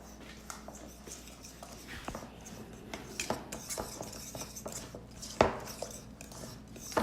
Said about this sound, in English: So I'm going to go ahead and mix this in here.